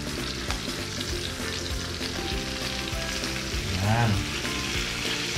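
Vegetables hit a hot pan beside steak and fry with a steady, loud sizzle, with a brief swell of crackling partway through and a short spoken word.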